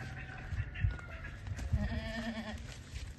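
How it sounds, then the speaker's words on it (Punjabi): Goats bleating at a village farm, several wavering cries over low background noise, the last one longer and higher. "ਬੱਕਰੀ ਕੋਈ ਨਵੀਂ ਆਈ"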